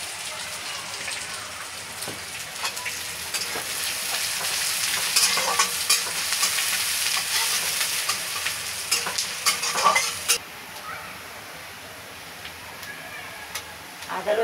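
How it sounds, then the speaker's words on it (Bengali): Ginger and garlic frying in hot oil give a steady sizzle, like light rain, across the whole stretch. Occasional clinks and scrapes of a spoon stirring in the pan come through, and the crackle eases near the end. "একটু নাড়াচাড়া করে আদা রসুনটা একটু লাল হয়ে গেলে"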